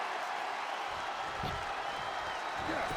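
Chicago arena crowd cheering in the WWE 2K26 wrestling video game, a steady wash of crowd noise with scattered applause that swells slightly toward the end, heard at a moderate distance.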